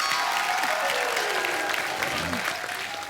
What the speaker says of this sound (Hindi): एक बार जोरदार तालियां इन सारे सुपर हीरो के लिए।